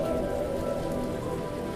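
Steady rain falls continuously on surfaces outdoors, a dense, even hiss with no gaps, close and fairly loud throughout.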